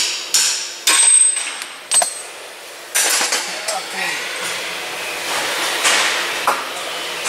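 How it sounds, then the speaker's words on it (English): A hammer strikes a rusted lower ball joint on a Hyundai Santa Fe, with about six sharp metallic blows at irregular intervals, loud and close in a garage. "Use the hammer."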